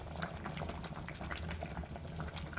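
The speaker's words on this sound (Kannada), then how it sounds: "ಕಾಳು ಸಾರು ಚೆನ್ನಾಗಿ ಕುದೀತಾ ಇದೆ" A pot of sprouted gram curry (kaalu saaru) boils steadily, with a continuous dense bubbling and popping texture, close and moderately quiet, with no talking.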